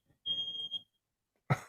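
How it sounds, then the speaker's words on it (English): A single short, high-pitched electronic alarm beep sounds faintly for about half a second. A brief voice-like sound follows. "I think my alarm is going off."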